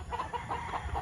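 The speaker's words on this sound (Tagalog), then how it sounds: "Ayan, so marami sila ito white kelso." White Kelso chickens in a farm pen give a quick run of soft, repeated clucks, faint and close together over a low background hum.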